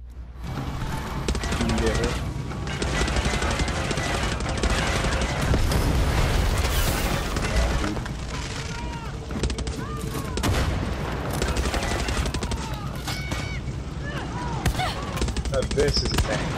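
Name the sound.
resolver weapon gunfire in video game Far Cry 6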